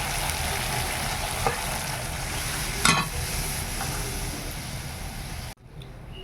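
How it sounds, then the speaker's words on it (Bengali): Water poured into fried spice masala in a pan on a village kitchen stove sets off a loud, steady sizzle, with a sharp hiss midway before it cuts off abruptly near the end. "এইবার জল দেব।"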